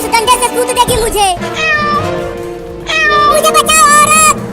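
A cartoon cat gives several drawn-out, wavering meows in quick succession, loud and close, alongside excited cartoon voices.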